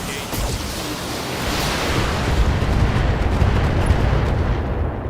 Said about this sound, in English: Hit him with our last missile pod.